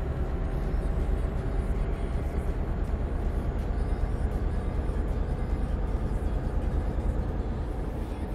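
A V8 truck engine in Euro Truck Simulator 2 drones steadily at low pitch with a rumbling, slightly pulsing texture, loud and continuous without talk.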